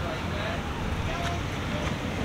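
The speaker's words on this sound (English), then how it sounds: "Told you it's a little windy today." Steady, loud wind buffeting the microphone at a busy outdoor hot rod and classic car show, a continuous broadband rush with no breaks.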